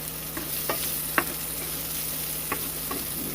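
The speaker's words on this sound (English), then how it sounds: "I'm going to go ahead and put the onions in" Onions dropped into a hot pan with garlic, a steady sizzle broken by a few soft knocks and scrapes of stirring.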